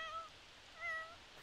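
Soft, faint meows from a small cat in The Sims 4 game, two brief high cries over a quiet background with no speech.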